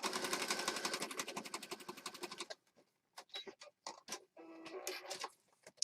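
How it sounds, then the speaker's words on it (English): A sewing machine stitches down the side of a scrappy junk journal in a fast, even ticking run for a couple of seconds, then stops and gives way to scattered handling clicks and rustles. "All right, so I'm just going to stitch right down the side."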